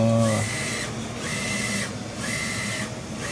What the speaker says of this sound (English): And this is the ECO SOLVENT printer right here.